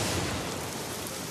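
Cartoon rain sound effect of rain beginning, a dense, loud, steady hiss of downpour filling the short moment with no voices.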